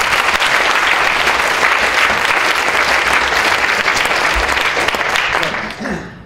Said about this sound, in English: But now you can applaud the panel.